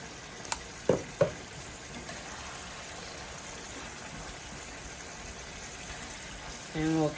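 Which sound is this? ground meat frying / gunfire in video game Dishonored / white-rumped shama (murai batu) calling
ground meat frying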